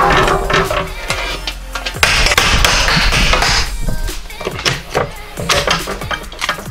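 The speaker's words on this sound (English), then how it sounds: "And rivet everything together." Repeated sharp metallic hammer strikes in an irregular rhythm as rivets are hammered into a metal kite-buckler shield, close and loud, with clattering in between.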